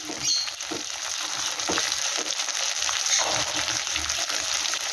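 Kashmiri chilli powder and turmeric frying in a pan, a close, continuous hiss and sizzle broken by scraping stirs with a spoon.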